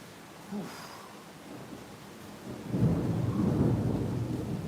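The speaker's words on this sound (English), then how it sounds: "You guys hear that thunder out there?" Thunder during a rainstorm in Atlanta: a faint distant crack early, then a low rolling rumble building and sustaining over steady rain hiss, heard from indoors with no talking.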